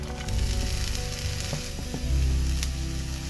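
Chopped bitter gourd hitting a hot pan for a stir fry, a loud close sizzle with stirring scrapes and taps, the hiss surging again near the end.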